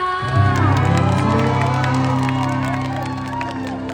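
A live concert audience claps and cheers loudly as music plays on, a broad crowd roar with whoops over sustained instrumental tones.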